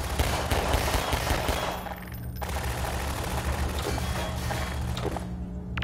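Gunfire in a Garry's Mod horror map, rapid automatic bursts hammering loud and close almost without pause, with one brief lull partway through.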